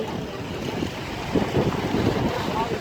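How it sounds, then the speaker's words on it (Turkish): Sea waves at night wash in continuously with a soft broadband rush, a few louder swells breaking midway, mixed with wind buffeting the microphone. "Dalgaları dinleyin arkadaşlar."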